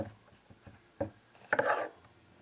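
An onion is finely chopped with a knife, a few soft, scattered cutting taps followed by a short, rougher scraping burst, all fairly quiet and close with no talking.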